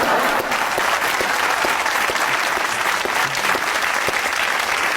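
An audience claps for Quaid-e-Azam in a dense, steady burst of applause that fills the whole stretch, close and even in loudness with no break.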